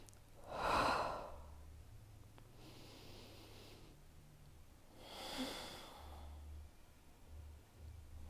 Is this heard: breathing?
yes